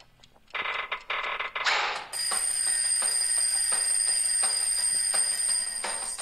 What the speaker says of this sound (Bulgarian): май чувам будилника